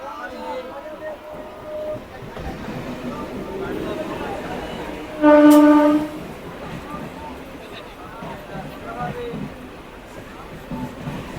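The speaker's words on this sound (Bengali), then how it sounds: "এই একটা ডাউন হাসনাবাদ লোকালের সাথে ক্রসিং হলো" A down Hasanabad local train passing at a crossing: steady rolling rumble and clatter, broken midway by a loud, brief, tonal horn blast lasting about a second.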